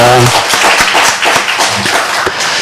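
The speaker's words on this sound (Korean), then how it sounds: "한번 박수로 격려해 주시겠습니다." A church congregation claps together in brief, fairly loud applause, with speech layered over the clapping.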